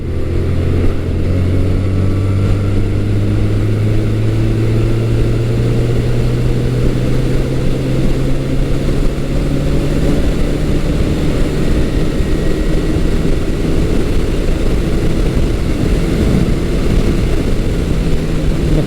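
A Honda CB900 four-cylinder motorcycle engine roars steadily, its pitch climbing gradually as it accelerates in a roll-on, with heavy rushing wind noise throughout.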